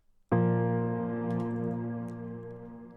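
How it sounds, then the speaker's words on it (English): A single sustained piano chord from a dance-track intro enters sharply after a brief quiet moment and rings out with a long, slowly fading decay, with a couple of faint high ticks over it. "I've also got an intro piano in here."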